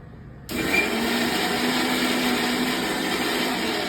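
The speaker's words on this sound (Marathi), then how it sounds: "हे सगळं वाटण आपल्याला मिक्सरमध्ये करून घ्यायचं आहे" A mixer grinder grinding a spice paste with green chillies starts abruptly and runs with a steady, loud, high-pitched whir until the end.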